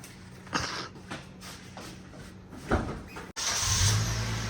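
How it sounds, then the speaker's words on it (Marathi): Car at the start of a road trip from Pune to Goa: low engine rumble with a few knocks and thumps, then a louder surge as the engine starts or revs near the end, close by, with no talking. "गाडी आमची स्टार्ट झालेली आहे"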